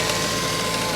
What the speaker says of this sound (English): Might help shut that power steering pump up. You can hear it back there just whining away.